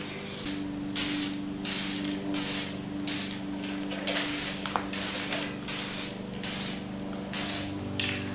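A spray can paints hose clamps on a wrapped car downpipe in repeated short hissing bursts of about half a second, near and steady, with faint clicks of the nozzle between sprays and a low hum underneath.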